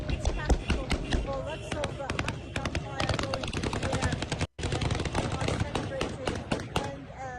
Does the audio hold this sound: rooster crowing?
no